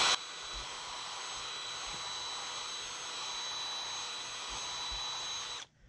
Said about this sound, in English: Just got a little wire wheel on it.